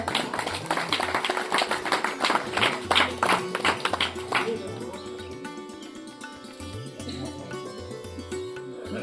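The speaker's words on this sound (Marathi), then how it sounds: "सर्वांनी टाळ्या वाजवायच्या पुन्हा एकदा." Audience clapping at a felicitation ceremony held at a village temple function, a dense burst of applause for about four seconds that then thins into scattered claps over a steady murmur of crowd noise.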